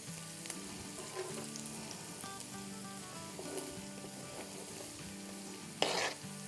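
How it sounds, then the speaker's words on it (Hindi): Onions sizzle in hot oil on a tawa for pulao, a steady frying hiss with stirring throughout and a sharper scraping burst near the end. "और अब इसमें हम अपनी प्याज डाल देंगे।"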